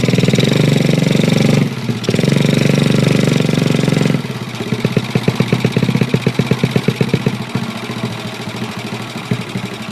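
A Honda Chaly small motorcycle engine runs steadily while riding toward a reservoir in the mountains, first a loud continuous drone, then a fast, rhythmic chugging putter for the rest of the ride.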